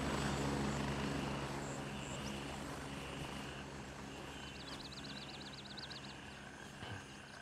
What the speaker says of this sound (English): away from the loud ass helicopter